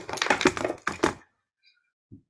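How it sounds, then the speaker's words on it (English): A computer keyboard is picked up and handled, giving about a second of close rattling key clatter, then near silence broken by a faint tap and a brief low knock. "You might hear noise because I'm picking up my keyboard."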